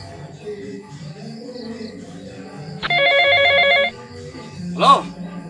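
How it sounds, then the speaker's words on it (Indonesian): A telephone rings once in a comedy sketch, a loud burst of electronic trilling lasting about a second, following indistinct background chatter and ending with a short squeak. "Lain telepon geura"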